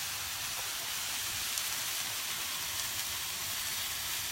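Small chicken patties sizzling in a hot pan, a steady bright hiss and crackle with no talking.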